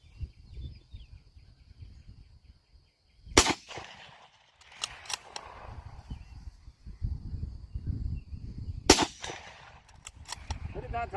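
Shots from an Israeli Kar98k rifle ring out at a target, two sharp, loud cracks several seconds apart, with quieter handling noise and low background rumble between them.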